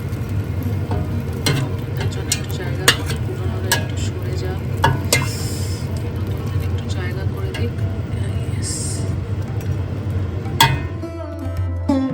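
Marinated pulao rice being stirred in a pan at home in Melbourne, with a soft sizzle beneath repeated scraping and clinking strokes of the spoon, close by, as a person talks over it.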